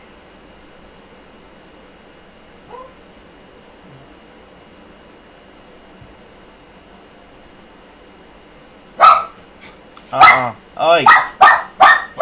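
A dog indoors barks in a rapid run of five or six loud, close barks near the end after a mostly quiet stretch, with a short spoken interjection just before.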